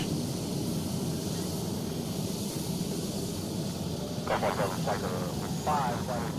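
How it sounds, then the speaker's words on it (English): Helicopter in a military simulation video game: a steady, dense engine and rotor drone runs throughout, with brief voice-like bursts near the end. "I missed the chatter on these helicopters."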